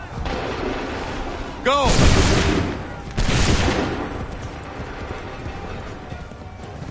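Volley of gunfire in a video game battle, two sharp loud blasts a second or so apart, each trailing off into rumbling noise, while a voice shouts a command over the din.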